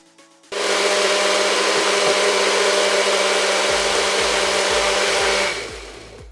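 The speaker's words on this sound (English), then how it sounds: "Once this is all blended into a smooth paste, you want to add your galangal" A blender whirs loudly and steadily for about five seconds, puréeing a homemade Malaysian satay marinade into a smooth paste, then spins down at the end; no voices.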